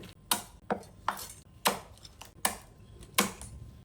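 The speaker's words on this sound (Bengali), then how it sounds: "এভাবে আমি সবগুলো কাঁকড়া কেটে নিচ্ছি।" A knife chops through raw crabs on a board during Bengali-style crab curry preparation, six crisp, evenly spaced cutting thuds close up with no talk.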